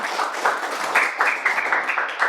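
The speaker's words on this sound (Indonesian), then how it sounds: "Oke, tepuk tangan untuk Albi dulu, sudah berani" Applause in a classroom of students, a dense patter of many hands clapping steadily with a few louder swells, close and continuous throughout the short stretch.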